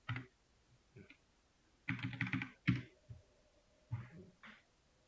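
Bursts of keystrokes on a computer keyboard, clustered into short runs of clicky taps with pauses between, as a year is typed in; close and fairly quiet, no voice.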